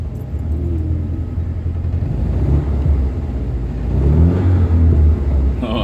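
Steady engine rumble from a 1979 Alfa Romeo Alfetta 2.0 while driving, a low continuous drone that swells slightly as it accelerates, heard from inside the car with no talking.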